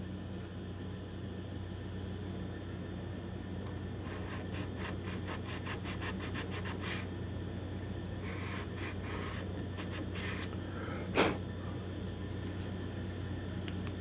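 150-grit sandpaper is rubbed along a wooden guitar binding channel at the heel in quick repeated strokes over a constant background hum, with one sharp knock near the end and no voices.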